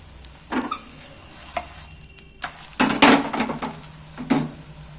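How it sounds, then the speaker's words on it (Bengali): Egg and potato pieces fry in oil in a pan, with a low steady sizzle broken by several sharp scraping stirs and turns of a spatula against the pan, fairly close and without voices. "আবারও আমি একটু উপরে তেল দিয়ে দিচ্ছি, তাহলে তেলটা দিয়ে এপিট ওপিট করে ভালো ভাজা যাবে।"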